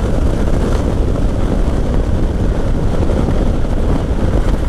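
Indian Sport Chief motorcycle pulling hard in fifth gear, a steady loud engine drone with heavy wind rush buffeting the microphone throughout, no voice heard.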